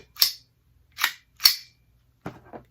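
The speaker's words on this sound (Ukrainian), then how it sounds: "Оттягування затвору" Three crisp metallic clacks spaced unevenly, followed by a softer rattling click, as the slide of a Browning Buck Mark .22 LR pistol is pulled back; close by in a quiet room.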